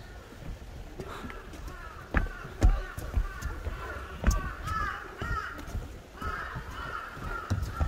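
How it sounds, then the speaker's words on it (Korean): Crows caw repeatedly on a mountain trail at Baegyangsan in Busan, their harsh calls coming in irregular bursts over a rustling outdoor background. "산에는 항상 까마귀가 있습니다."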